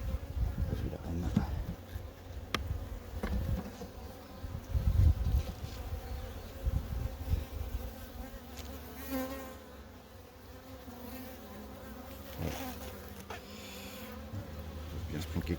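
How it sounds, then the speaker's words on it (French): A small artificial honeybee swarm buzzing with a steady, close, moderately loud drone of many bees, with some low handling bumps and a quiet voice in the background. "Petit essaim qui pour l'instant va bien."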